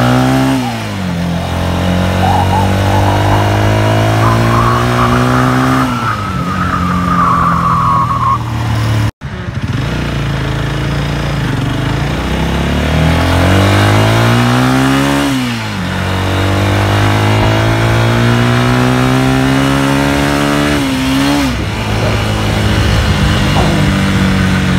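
A sporty heavy superbike with a 16-litre tank revs hard, its engine climbing and falling in repeated loud sweeps, with a sharp break in the middle before revving up again.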